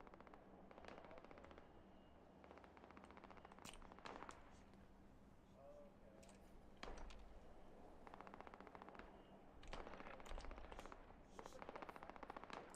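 Combat rifle fire in the video game Fallout 76, heard as repeated rapid bursts of ticking automatic shots with short pauses between volleys, fairly quiet and steady across the scene.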